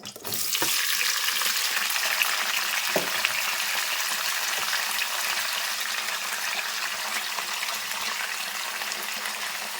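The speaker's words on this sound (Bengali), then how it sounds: "ভালোভাবে মিক্স করে নিচ্ছি তেলটার সাথে ভেজে নিচ্ছি আমগুলো" Chopped mango frying in oil for a jaggery mango pickle, a steady dense sizzle running throughout with a few stirring knocks near the start, close and fairly loud.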